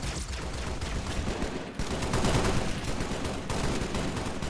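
Dense, continuous automatic gunfire from UNSC forces rattles in a Halo Reach mod battle, loud and close with heavy overlapping bursts and a brief dip before the barrage resumes.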